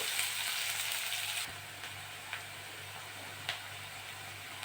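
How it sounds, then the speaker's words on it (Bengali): Onions and green chilies fry in hot oil in a pan, a steady close sizzle that drops a little after a stir, with occasional soft taps of a spoon against the pan. "ভালো করে ভেজে নেব।"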